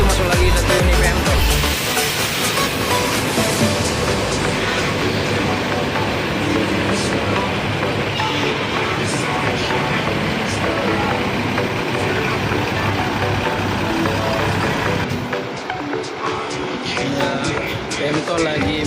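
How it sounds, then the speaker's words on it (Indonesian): A Pemto express intercity bus in Aceh pulls in to park at night, its engine a steady loud rumble throughout, with people talking nearby over the drone. "Pemto lagi mau parkir ya, parkiran."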